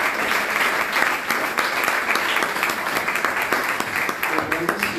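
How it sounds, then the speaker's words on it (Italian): Audience applause at a press conference presenting a light-festival event, a dense, steady wash of many hands clapping for the full stretch, loud and continuous with some voices mixed in beneath. "La memoria di Antonio Savona, al quale io rivolgerei un applauso grandissimo"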